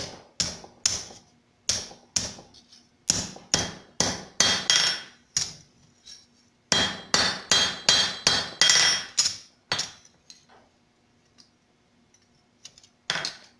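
Hot copper is hammered on an anvil for a forged cross, with sharp ringing blows in quick bursts, pausing briefly between runs of strikes, close and loud with no talk.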